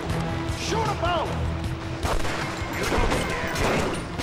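Bursts of gunfire and impacts crash through a Punisher video game scene, with loud overlapping shots under faint game voices and background sound.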